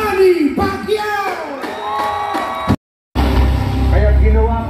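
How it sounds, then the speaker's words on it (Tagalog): A crowd cheers and whoops loudly for Senator Manny Pacquiao at a Filipino rally, with shouted voices and an amplified announcer over the roar, a brief dropout, then sustained cheering. "Isang malakas na sigawan para kay Senator Manny Pacquiao!"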